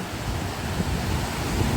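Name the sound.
sea waves on a beach in Odesa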